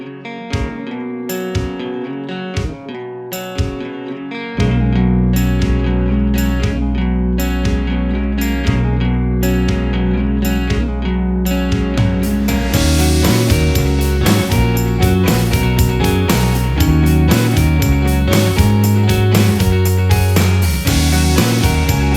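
Full rock song mix with several layered electric guitar tracks, sparse picked parts opening before a thicker wall of distorted guitars and drums enters at about five seconds and swells further around twelve, loud and continuous with no talking.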